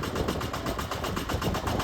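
A tractor engine runs steadily, a continuous low rumble with rhythmic pulsing and no pauses, fairly close and alone.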